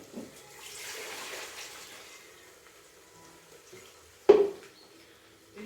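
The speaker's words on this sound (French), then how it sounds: "De l'eau que je mesure à 1200 ml selon la quantité du riz que je veux préparer." Water measured for cooking rice, poured in a soft, steady stream for a couple of seconds, then a sharp clink or splash near the end in an otherwise quiet kitchen.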